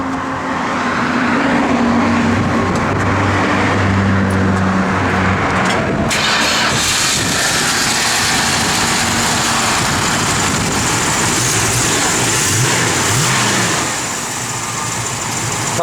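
A 1970 Plymouth Barracuda engine fires up with a sudden catch, then runs steadily loud as the car drives off, a continuous rumbling drone with road noise that eases slightly near the end.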